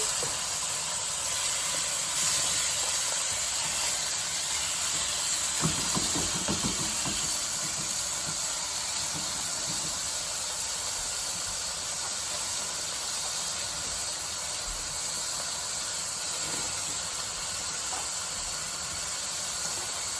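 Food for a spinach and pork dish sizzling in a hot pan, a steady, even hiss that runs throughout with a few faint clatters, and no talking.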